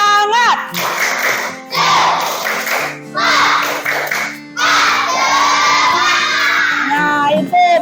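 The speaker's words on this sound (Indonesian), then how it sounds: "Ulang, tepuk semangat." A class of school pupils performs the rhythmic Indonesian spirit clap, chanting loudly together in bursts with hand claps, separated by short pauses, their voices near and energetic.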